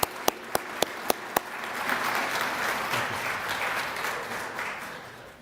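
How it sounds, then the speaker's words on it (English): An audience at a presentation bursts into applause for the presenters after a few sharp early claps. The clapping swells into a steady, dense wash, then slowly fades over several seconds. "Let's give a round of applause for our next presenters, Commissioner Jessup and Mike Wands."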